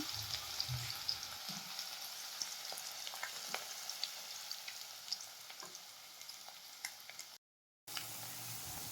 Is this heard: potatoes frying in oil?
yes